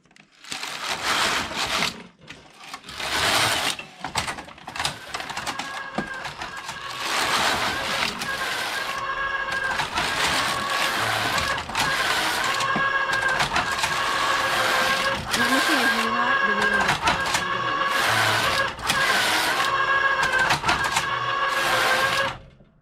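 A Passap E6000 knitting machine knits rows of a two-colour swatch, its carriage making a steady, loud mechanical whirring and rattling that runs almost without pause, broken by brief sharper clacks and occasional short gaps.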